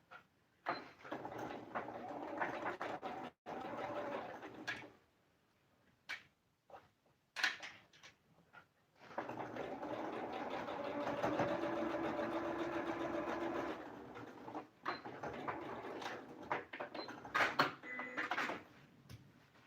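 A sewing machine stitches patchwork fabric for a homemade zippered pouch, running in short bursts and then one long steady whirring stretch, quiet and close, with clicks and handling noises between runs.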